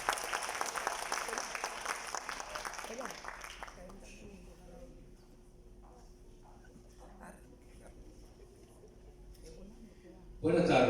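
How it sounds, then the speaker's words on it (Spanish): Audience applause for a university panel fades out after about four seconds, followed by quiet room tone with faint movement, then a sudden loud burst at the end. "Un aplauso para nuestros panelistas."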